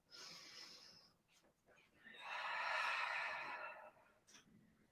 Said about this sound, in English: Just take a few deep grounding breaths here.